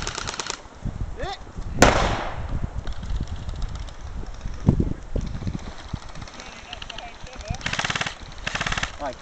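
An airsoft grenade bursts at an outdoor skirmish in Cumbria, a single loud sharp blast amid rapid bursts of gunfire, with players shouting throughout.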